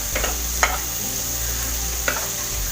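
Chopped tomatoes fry in a pan over high flame for chicken masala with potato, a steady low sizzle with a couple of brief stirring scrapes, moderately close and without talk.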